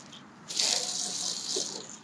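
Water gushes and splashes from a bucket knocked over in a garden, a sudden loud spill that starts abruptly and keeps pouring and sloshing nearby for over a second before easing off.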